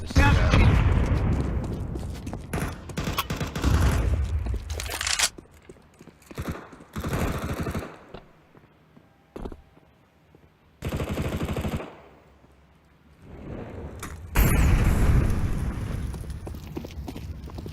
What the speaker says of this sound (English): Flashbang out. Molotov out.